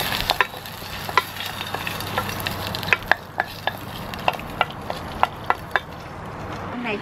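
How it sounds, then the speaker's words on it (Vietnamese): Chili stir-fried in a pan, a steady sizzle broken by a string of sharp clacks from the spatula striking the pan at irregular intervals. "Ớt xào."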